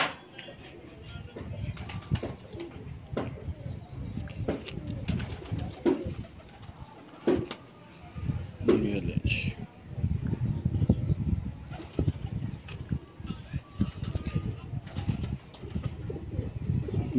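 Pigeons coo from a rooftop loft in Sheikhupura, soft repeated calls set under a steady, noisy outdoor background.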